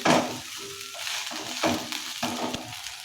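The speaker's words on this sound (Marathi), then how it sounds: "मीठ ही या भेंडीला व्यवस्थित लावून घेऊया" Masala okra (bhindi) being stirred with salt in a pan, with scraping and rustling strokes of the spatula over a soft sizzle, close and moderately loud, several distinct stirs with no talking.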